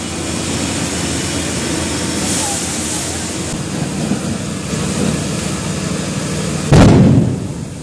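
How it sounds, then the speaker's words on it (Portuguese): A sudden loud boom bursts from a burning bus through a steady roaring background of fire and rumble, near and forceful. "Olha uma explosão agora ali, muita chama saindo"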